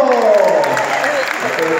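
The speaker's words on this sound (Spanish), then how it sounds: "¡Dale su aplauso!" Short burst of audience applause for a magic act, with bright clapping and voices mixed in.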